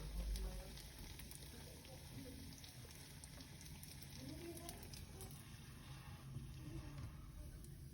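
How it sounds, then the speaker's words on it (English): A donut is lowered into hot oil and fries with a soft, steady sizzle and crackle. The bubbling is faint and continuous throughout, with a low background hum. "You're going to put your donut slowly into your oil."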